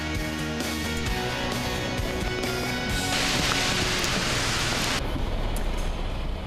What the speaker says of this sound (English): it was the sound of rain, music to our ears